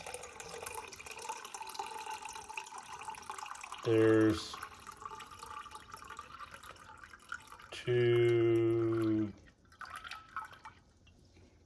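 Water runs from a tap into a bowl on a kitchen scale for sourdough, two short bursts of pouring with rising pitch, with someone speaking softly in between.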